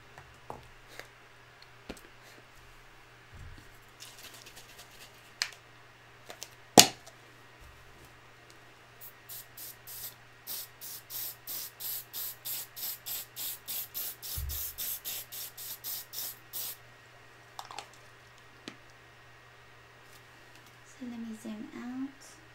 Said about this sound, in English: Okay, now I have to spray that.